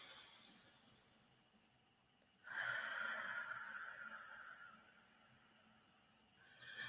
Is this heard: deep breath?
yes